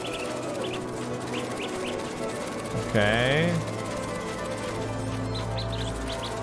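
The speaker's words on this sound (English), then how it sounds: "Shoot the bird to shoo it home." Short chirps from a bird in the Spider-Man 2 video game repeat near and fairly quiet over a low game hum, with a brief swooping whistle effect midway and a voice speaking once.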